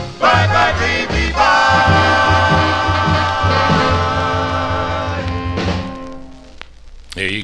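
Doo-wop vocal group harmony from a 1954 45 record, with steady bass and layered sustained voices playing loudly until the song fades near the end.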